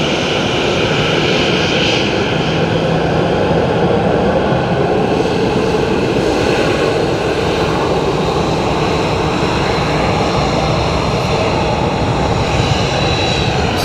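Ryanair jet airliner at Dublin Airport, a loud continuous roar of jet engines that holds steady throughout, heard at fairly close range outdoors.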